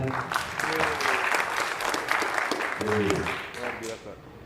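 Seminar audience applauding at a talk on ideology and the 2024 election, a dense wash of many hands clapping steadily and fairly close for a few seconds, with voices calling out over it before it fades.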